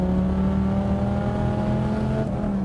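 A tuned Dodge Viper V10 with a special exhaust, about 650 horsepower, accelerating hard, its deep steady engine drone loud and close throughout, with no voices.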